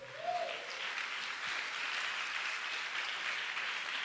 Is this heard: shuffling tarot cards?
no